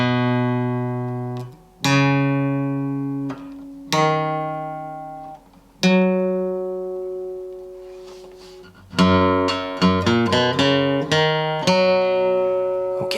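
An acoustic guitar slowly plays the opening of a song from the open sixth string, single picked notes and strums left ringing with gaps between them, growing into fuller chords near the end.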